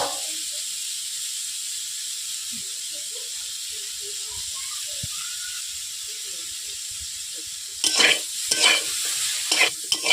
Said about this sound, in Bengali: হলুদ দেওয়ার পর আমি এক থেকে দু মিনিট নেড়ে নিচ্ছি